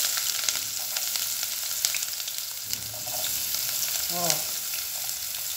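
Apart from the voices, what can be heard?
chopped onion frying in a pan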